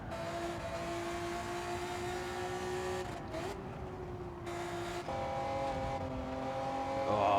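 A Honda NSX Type R race car in Gran Turismo 7 runs flat out at high speed on the Tokyo Expressway circuit, its engine holding a steady, loud high-pitched whine with brief dips and a rise at the end.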